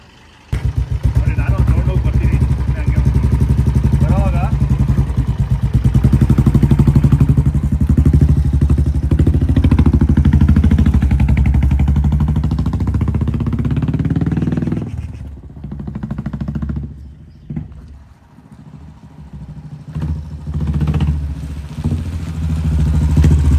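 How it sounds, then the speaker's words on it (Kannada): A 500cc twin spark motorcycle engine revs loudly up close, a deep throbbing roar that rises and holds before dropping away and picking up again, with people talking over it. "ಇನ್ನೂ ಇಂಜಿನ್ ರೈಸ್ ಮಾಡ್ತಾವ್ರೆ"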